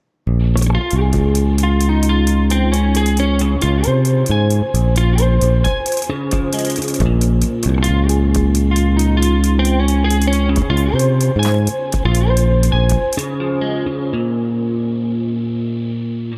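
A distorted electric guitar plays a repeating Midwest emo riff, loud and upfront, with chorus-like shimmer and sustained notes ringing out at the end.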